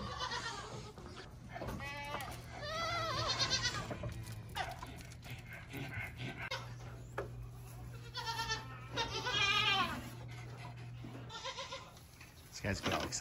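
A giant 15-year-old horned billy goat on a farm bleats in several loud, quavering calls spread over the stretch. A person talks nearby under a low steady hum.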